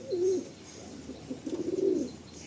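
Pigeons coo softly and close by, low throaty calls repeating in a gentle rolling rhythm with no talking.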